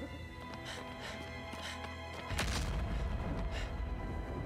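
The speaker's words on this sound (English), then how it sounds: "I just heard like an explosion?" A sudden boom bursts out in Shadow of the Colossus HD Remake, a single deep, distant blast that rises out of quiet ambient sound and leaves a lingering low rumble.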